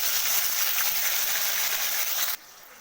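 Ginger paste hits hot oil already tempered with dried red chili, nigella seeds and a bay leaf, giving a soft, steady sizzle that hisses evenly for over two seconds and then cuts off abruptly.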